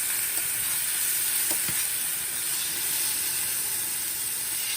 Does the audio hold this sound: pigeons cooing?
no